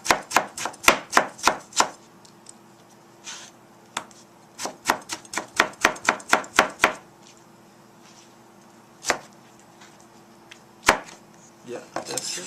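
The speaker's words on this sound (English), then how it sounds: "Now I chop tomatoes." Tomatoes being chopped with a knife on a cutting board for Tibetan beef with radish: quick bursts of sharp, close knocks come in fast runs, then pause, with a few single chops later.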